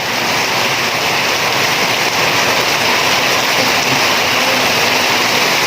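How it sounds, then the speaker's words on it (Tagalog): Heavy typhoon rain pours down in a loud, dense, unbroken hiss, steady from start to finish with no voices. "binuhos na talaga yung ulan"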